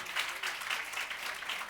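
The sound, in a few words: audience applause for the panel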